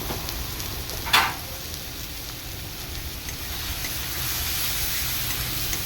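Onions fry in butter in a wok, a steady close sizzle and crackle with one brief louder spatter or stir early on, continuing evenly throughout.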